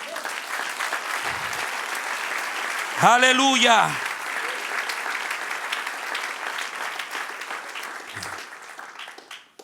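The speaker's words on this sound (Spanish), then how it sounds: "Dale un aplauso al Señor." A church congregation applauds steadily and fairly loudly, while one voice briefly shouts a sung exclamation above the clapping partway through.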